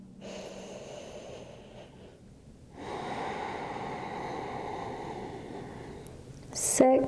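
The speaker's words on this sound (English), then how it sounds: "Deep inhale. Deeper exhale." Deep yoga breaths during a guided moon salutation: a long, airy inhale is followed after a brief pause by a fuller exhale, close and steady, with a faint click near the end.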